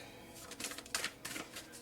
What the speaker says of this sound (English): here's my awesome shuffling skills for pile 3